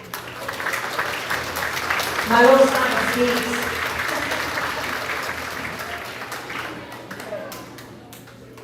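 An audience applauds at a grades 4-6 school awards ceremony, a steady wash of clapping that runs the whole time with a brief swell early on, while a voice speaks over it.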